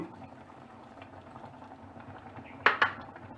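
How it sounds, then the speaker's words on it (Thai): Isan jaew dipping sauce simmers in a pot over low heat, giving a steady soft bubbling throughout, with two sharp utensil clinks close by near the end. "และเวลาเคี่ยวเพื่อน ๆ จะต้องใช้ไฟอ่อนนะคะ"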